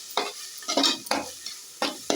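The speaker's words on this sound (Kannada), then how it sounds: "ಚೆನ್ನಾಗಿ ಇದನ್ನು ಇದಕ್ಕೆ ಮಿಕ್ಸ್ ಕೊಡೋಣ." Spoon stirring a masala pasta mixture in a pan, five or six distinct scraping strokes at close range with faint sizzling between them.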